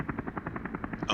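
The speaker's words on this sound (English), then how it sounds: "Oh, that's a helicopter in the game." A helicopter in the video game Deus Ex: Human Revolution gives off a steady, rapid rotor chop of evenly spaced thumps, moderately loud and heard alone for about a second.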